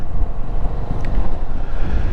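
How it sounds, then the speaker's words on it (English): Strong wind blows outdoors on a gusty day, a steady low roaring rumble that buffets throughout with no voices. "It's like really windy"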